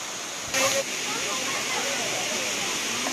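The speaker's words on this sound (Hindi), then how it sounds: "और इस तरह है वाटरफॉल एक छोटा सा" A small waterfall beside the Akashi Ganga Shiv temple, a picnic spot, gives a steady broadband rush of falling water throughout, with a brief louder burst near the start and faint crowd voices in the background.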